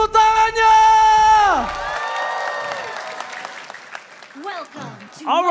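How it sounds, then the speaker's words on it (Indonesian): An esports arena crowd at an MPL Indonesia Mobile Legends match claps and cheers loudly, with whoops rising over a sustained tone and announcer-style voices carrying through the noise. "minta tepuk tangannya!"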